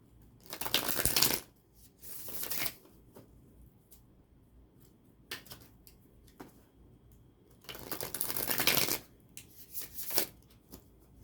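Osho Zen Tarot cards are shuffled in several quick riffling bursts separated by short quiet pauses, close and fairly soft.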